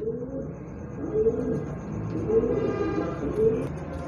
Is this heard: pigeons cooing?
yes